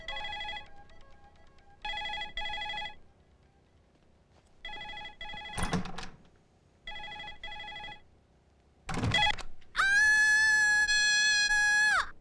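A telephone rings repeatedly in short evenly spaced bursts with silent gaps, then a longer higher ringtone plays at the end, with brief noises between rings.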